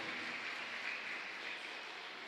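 Congregation applauding the grandparents inside a church chapel during Mass for the feast of Saints Joachim and Anne, a steady, even wash of clapping at moderate distance, fairly faint and unbroken throughout.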